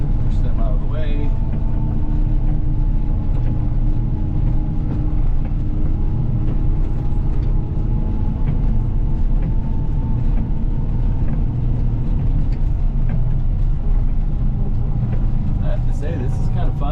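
A snowplow truck pushing through snow drifts gives a steady low engine rumble throughout, with someone talking now and then over the drone.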